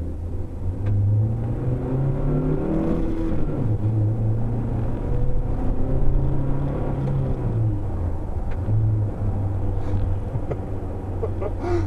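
A car rolls slowly along a road with a low, steady engine hum and rumble, the engine note rising and falling gently, while people talk in the cabin.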